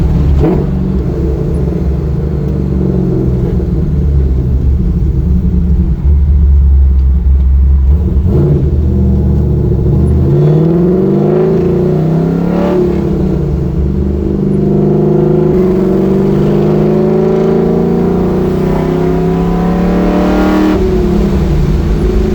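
A 1969 Camaro with an LS3 V8 revs loudly while driving, its deep engine note rising and falling steadily for the whole stretch with no talking.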